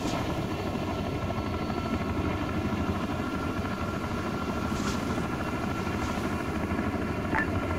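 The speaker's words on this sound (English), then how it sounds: "All units, stop in the Chinook for evac." A Chinook helicopter in the military game Arma 3 holds a steady loud rotor and engine drone throughout, with a few faint brief sounds over the continuous roar.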